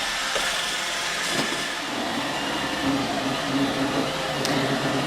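An iRobot Roomba 880 robot vacuum runs steadily while crossing from hardwood floor onto a rug, a continuous mid-level motor and brush whir with a few faint clicks, no voices.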